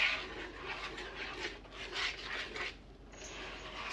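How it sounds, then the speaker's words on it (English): Dry ingredients with cinnamon and nutmeg are whisked in a bowl for a carrot cake waffle batter. A close, soft scratchy rasp keeps up a steady circling rhythm, and no voices are heard. "we're going to whisk this together"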